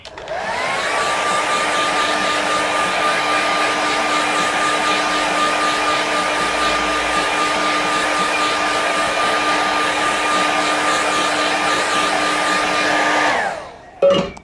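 A hair dryer blows steadily on wet watercolour paint during a loose boats-and-harbour painting, a loud continuous whirring hum with a stable tone that runs unbroken for about thirteen seconds before cutting off abruptly.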